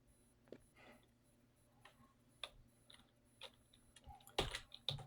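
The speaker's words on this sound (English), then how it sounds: "I'm about to do typing test right now." Keys tapped on a computer keyboard during a typing test, sparse quiet clicks at an uneven pace, with a louder cluster of taps near the end in an otherwise hushed room.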